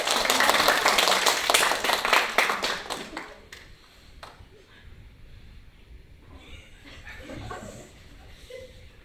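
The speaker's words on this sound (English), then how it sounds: "Everybody clap." An audience claps together at a professional communication talk, loud and dense for about four seconds before fading into a quiet room with faint stray sounds and murmurs.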